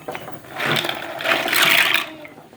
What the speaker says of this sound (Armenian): հիմա ավելացնելու ենք մեր ծովախեցիները ջրի մեջ և թողնելու ենք եփվի 5-ից 7 րոպե